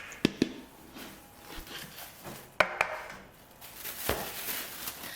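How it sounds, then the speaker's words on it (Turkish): Börek dough being rolled out lengthwise with a light dusting of flour, giving soft, scattered wooden knocks and taps from the rolling pin on the board, fairly quiet, with no talking. "Hafiften arada un serpip hamur uzunlamasına açmaya başlıyorum."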